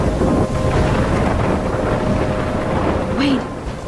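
Stormy weather in the game Life is Strange, with steady loud wind and rain roaring throughout and a low rumbling bed, easing slightly near the end.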